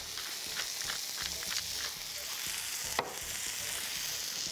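Cabbage with Provence herbs, salt and pepper frying in a pan, giving a steady soft sizzle with scraping stirring sounds and one sharp clink near the end.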